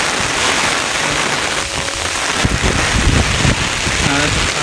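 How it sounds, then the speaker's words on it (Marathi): Heavy monsoon rain in rural Konkan pours steadily and loudly close by, with gusts of wind and a few brief knocks during the downpour. "कधी तसाच पाऊस पडतोय"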